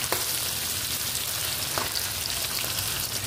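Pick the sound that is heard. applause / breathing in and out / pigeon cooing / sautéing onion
sautéing onion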